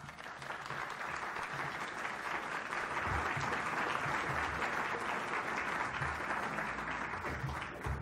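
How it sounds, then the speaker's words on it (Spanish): Sustained audience applause for a speaker at a Spanish-language lecture in Guanajuato, a dense, steady clatter of many hands lasting throughout at an even, loud level. "Un cordial aplauso, por favor."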